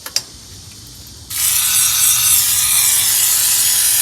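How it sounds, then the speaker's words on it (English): A steady WD-40 aerosol spray hisses close by for several seconds, starting abruptly after a couple of faint clicks, loosening a stuck part on a Porsche 914. "Spray some WD-40 down there."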